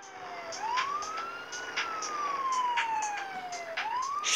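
Police car siren wails in a racing video game, rising and falling in long sweeping tones over a low engine rumble, moderately loud and alone without speech.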